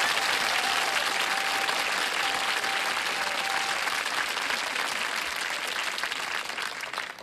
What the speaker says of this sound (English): They're applauding for us.